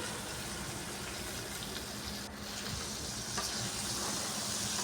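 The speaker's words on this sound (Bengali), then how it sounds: "ভেন্ডি ভাজা প্রায় হয়ে এসছে" Okra sizzling in a pan on low gas heat, a steady dense hiss of frying running unbroken throughout, close and moderately loud with no talking.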